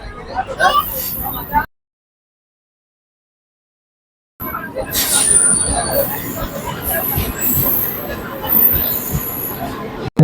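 Rumble and rattle from inside a Howrah to Digha local train, with steady running noise, faint wheel squeal and a sharp gap partway through, while a person talks over it.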